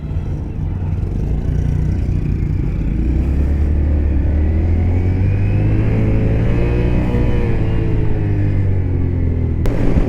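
A Honda Grom motorcycle engine revs steadily and loud, its pitch rising and falling over a continuous rumble from close by, with no voices over it.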